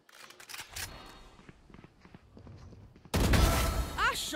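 Gunfire in the shooter game Valorant: quiet scattered shots and footsteps, then a sudden loud close burst of rapid shots in the final second, with voices mixed in.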